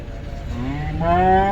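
A Holstein Friesian dairy cow at a cattle market moos once, a long, loud, drawn-out low call that rises slightly at the end, close by with no talking.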